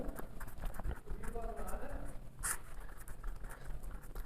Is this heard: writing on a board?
yes